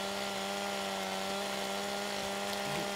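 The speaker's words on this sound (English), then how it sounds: "if you get your chainsaw out, go down straight the middle" A chainsaw cuts branches off a log in Farming Simulator 2017, a steady buzzing engine whine held at a constant pitch, faint and continuous with no talk.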